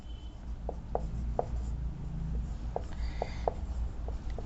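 A pen or chalk writes in short, faint strokes and taps on a board or page. The scratches come in irregular bursts over low room hum, with no voice.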